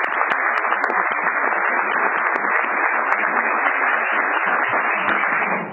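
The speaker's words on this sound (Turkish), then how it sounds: "Bir alkış diyeceğim" An audience bursts into continuous applause, a thick band of clapping at even loudness for nearly six seconds with a few sharp clicks, tailing off slightly at the end.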